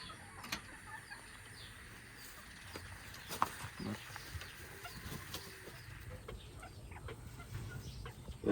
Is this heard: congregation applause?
no